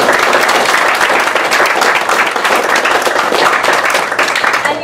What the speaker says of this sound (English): Can we please give our panelists a round of applause?